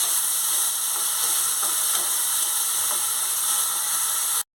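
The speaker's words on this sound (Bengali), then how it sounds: "এবারে দিয়ে দেবো বেটে রাখা টমেটো। এটা দিয়েও আমি আর কিছুক্ষণ একটু নেড়ে নেব।" Ground tomato paste sizzles steadily in a hot pan for fish curry, a dense, continuous frying hiss with faint scrapes of stirring, close and loud, ending abruptly with no voices.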